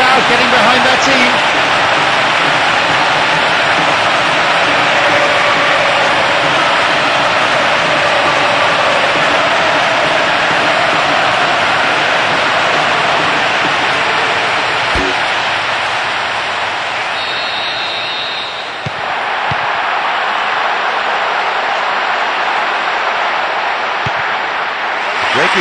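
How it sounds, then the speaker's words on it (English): A capacity football stadium crowd roars and cheers continuously, a loud, dense wall of noise that stays steady throughout with no clear speech on top. "There is nowhere quite like this for noise, the capacity crowd getting behind their team."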